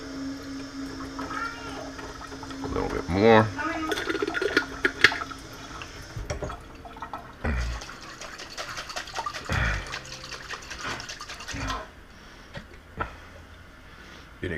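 Water pours and splashes into a butter chicken jar in bursts, with clattering handling noises and a brief spoken remark.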